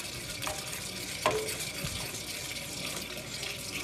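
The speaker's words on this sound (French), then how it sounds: "On y va doucement, tout en brassant." Cornstarch being stirred slowly into a vegan caramel sauce in a pan, giving a soft, steady wet swishing with faint liquid movement and a brief clink near the start, close and fairly quiet.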